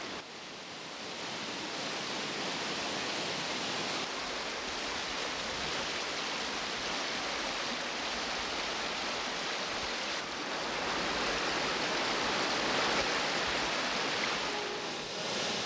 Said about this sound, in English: An abundance of fresh water cascades from the ridges.